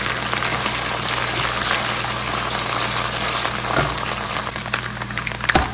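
Minced meat (qeema) hitting hot oil with garlic and ginger gives a steady, loud, continuous sizzle and bubbling hiss that runs throughout, close up, with no talking.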